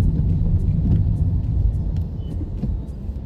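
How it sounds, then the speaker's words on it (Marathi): A car creeping slowly through road traffic on the highway from Pune to Kolhapur, a steady low engine rumble and road noise from inside the cabin, with faint clicks and no talking. "इथं थोडंसं ट्रॅफिक आहे, गाडी आम्हाला स्लो करावी लागली"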